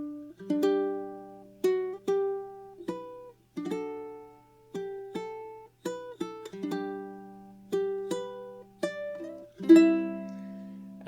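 Fingerpicked ukulele plays the opening bar of Auld Lang Syne in G, plucked single notes and small chord stabs in a gentle lilting rhythm, close and clean with no other sounds.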